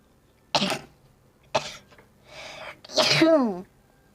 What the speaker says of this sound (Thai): จะจาม